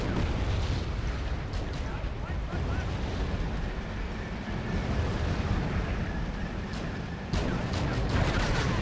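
Tank and artillery fire in the video game Wargame: European Escalation, a dense, continuous barrage of booming blasts and rumbling impacts with a few sharper bursts standing out near the end.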